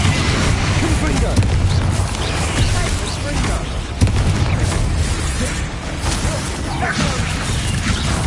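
Explosive Confringo spell impacts in a chaotic Hogwarts Legacy duel, dense and loud, layered with other spell effects and combat noise, no clear single isolated blast.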